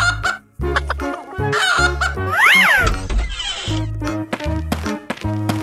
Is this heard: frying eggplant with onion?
no